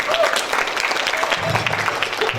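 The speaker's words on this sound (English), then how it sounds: "give her a hands of applause" Conference audience at an RBB Summit event in Batam clapping loudly and steadily. The applause fills the room for a couple of seconds, with a voice faintly audible beneath it.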